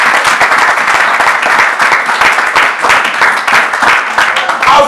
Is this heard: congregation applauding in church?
yes